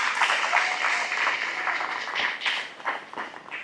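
Church congregation applauding during a Spanish-language sermon: a dense, steady wash of many hands clapping, fairly loud and sustained throughout.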